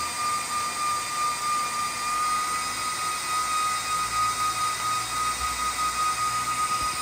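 A server GPU fan, driven by an ESP32 controller, spinning at full speed: a loud, steady, high-pitched whoosh and whine, continuous and close, with no voices.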